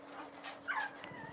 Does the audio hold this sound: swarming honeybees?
no